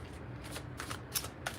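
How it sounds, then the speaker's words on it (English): Tarot cards being shuffled by hand, a steady papery riffling with a few sharper slaps of the deck, close and fairly quiet, with no talking. "2 more shuffles"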